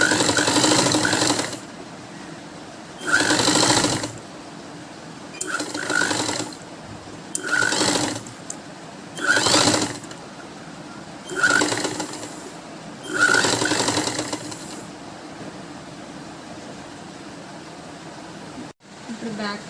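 A sewing machine stitching a baby frock runs in about seven short, loud bursts of rapid whirring, separated by quiet pauses while the fabric is repositioned.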